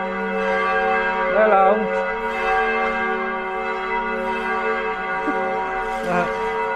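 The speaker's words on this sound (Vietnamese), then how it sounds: "mọi người nghe tiếng chuông ở nhà thờ rất là hay luôn" Bells ring at the Vinh Sơn parish church in the Thái Bình diocese, a sustained rich metallic hum with overlapping tones that fill the air steadily, with a brief voice.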